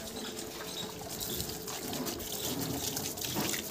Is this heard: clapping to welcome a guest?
no